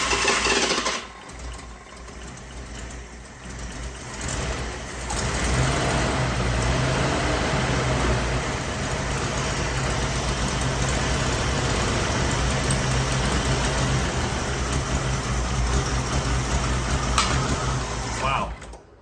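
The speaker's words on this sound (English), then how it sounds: "I want to crank for a little bit because I don't want to just. I want to try to draw some fuel up there." AMC Eagle engine cranking, then catching and settling into a steady idle, a continuous mechanical rumble heard close by throughout.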